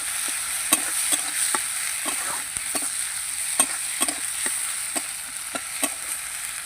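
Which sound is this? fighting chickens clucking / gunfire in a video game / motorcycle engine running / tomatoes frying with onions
tomatoes frying with onions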